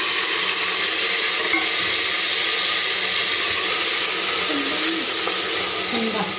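A paste of tomato, onion, green chili and garlic hits hot oil already tempered with asafoetida in a home kitchen, giving a loud, continuous close-up sizzle and hiss with faint stirring scrapes beneath.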